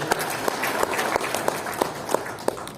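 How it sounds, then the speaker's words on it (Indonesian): Audience clapping during a welcome address at a members' assembly in Indonesia, a moderate crowd applause with scattered individual claps, steady and fairly near throughout. "tepuk tangan untuk Pak Roni."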